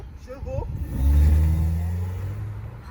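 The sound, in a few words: Suzuki Ertiga car engine revving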